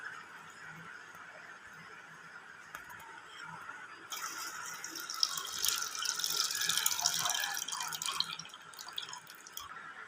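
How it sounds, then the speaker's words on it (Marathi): Potatoes are rinsed in water, giving a soft run of splashing and dripping that grows louder and busier halfway through, then settles slightly. "हे 3 पाण्याने अशी स्वच्छ धुवून घ्यायचे."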